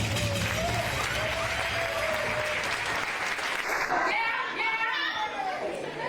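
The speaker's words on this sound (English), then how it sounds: "Everybody, please give your hands a round of applause." Steady applause from a large crowd at an awards gala, loud and continuous throughout, with voices and cheers mixed in toward the end.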